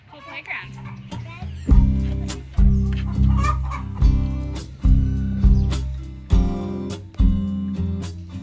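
Chickens cluck at a playground near Lake Atitlan, heard under strong rhythmic music with regular beats, while a voice speaks nearby.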